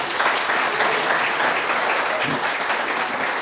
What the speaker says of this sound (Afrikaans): Kom ons gee hulle lekker harde hande klap.